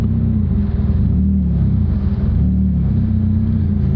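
McLaren 720GTR Carbon creeping up a very slight hill at low speed, its engine holding a steady, deep rumble with faint rhythmic pulsing and no break or stall throughout.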